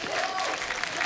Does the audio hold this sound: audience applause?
yes